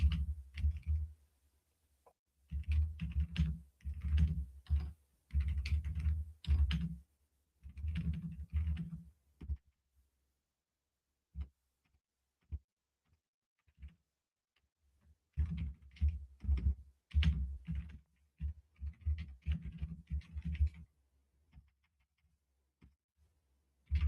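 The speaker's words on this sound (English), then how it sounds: "I am typing terribly this day." Computer keyboard typing in quiet bursts of rapid clicking keystrokes separated by pauses, fairly close and soft, with no talk over it.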